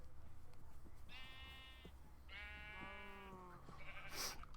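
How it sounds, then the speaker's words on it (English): Sheep in Minecraft bleat twice in a row, each call a short harmonic wavering bleat, fairly close against a low background hum, with a brief higher squeak near the end. "Would you like to go over there as well, Mr. Sheep?"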